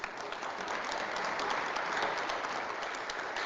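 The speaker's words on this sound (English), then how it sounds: "can you give our CEO and our director a round of applause?" An audience applauds a CEO and director at a corporate event, a dense, even wash of clapping from many hands, sustained throughout at moderate distance.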